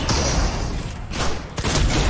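Gunfire in Fortnite, a loud, dense burst of shots and thuds packed into two seconds, with a brief dip in the middle.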